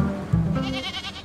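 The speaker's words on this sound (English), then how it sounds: "And goats!" Goats bleat in the Farming Simulator 25 gameplay trailer: a short, close, wavering bleat that swells midway and trails off, with no talk over it.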